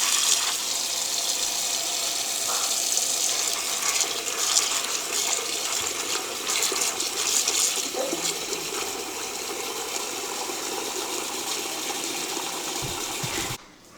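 Steady, fairly loud rush of running water into a pot of dried green beans for most of the clip, cutting off abruptly at the end.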